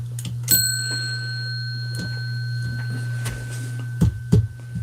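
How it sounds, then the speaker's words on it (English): A single bright bell ding rings out and its tone lingers, over a steady low hum, with a few faint knocks and taps. "something's wrong with my bell"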